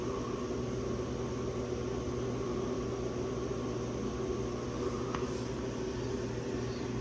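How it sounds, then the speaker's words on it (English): A laser cutter runs in a workshop during an SJD SC mod build, giving a constant mechanical drone and airy hiss at low level throughout, with no talk over it. "The laser's still running."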